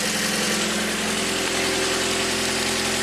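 A 1987 Toyota MR2 engine idles steadily and close by, a constant droning hum with a fine mechanical pulse and no voices over it.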